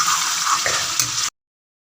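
Mutton in a tomato base on high flame in a karahi sizzles and hisses steadily with a brief stirring scrape, close and continuous until it cuts off abruptly.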